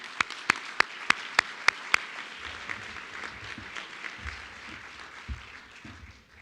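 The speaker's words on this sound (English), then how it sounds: "I would appreciate if we could give you an applause as our community and as our parents" A few loud, evenly spaced claps ring out first, then softer, looser applause from community members and parents spreads through the room at a senior awards ceremony.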